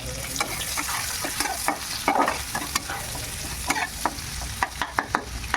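Garlic and onions frying in a pan, a steady close sizzle broken by sharp clicks and scrapes of a spoon stirring, with a brief louder burst of crackle midway.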